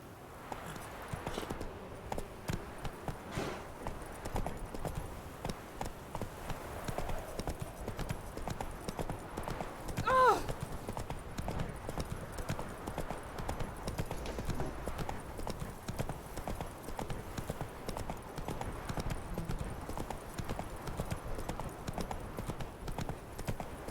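Roach, Geralt's horse in The Witcher 3 video game, clip-clops along at a steady gait, hooves beating in an even rhythm throughout amid ambient game sound, with a brief louder accent near the middle.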